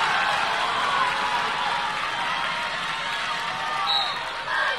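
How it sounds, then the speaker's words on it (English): A crowd applauds and cheers after a high school wrestling bout, a steady dense wash of clapping and voices filling the gym from start to finish. "And a very entertaining bout, and the crowd applauding."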